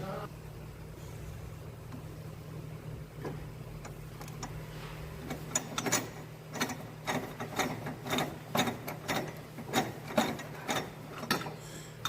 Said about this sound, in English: Then get yourself a 1/2" ratchet. And once you've cracked it off, it should unscrew by hand.